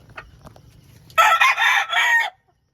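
A gamefowl rooster in a backyard flying pen gives one loud, close crow lasting about a second, after a few faint clucks and low background noise.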